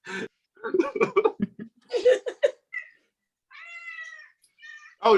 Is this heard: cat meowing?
yes